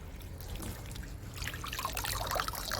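Tap water trickles and splashes steadily while spring onions are washed in a kitchen, growing a little louder and busier toward the end, with no talking.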